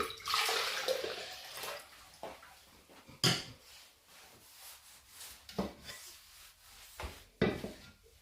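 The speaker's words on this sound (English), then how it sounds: "And I'm going to pour it back into this." Beetroot juice splashes and trickles into a container in short bursts, close and fairly quiet, with brief gaps and some rubbing handling noises between pours.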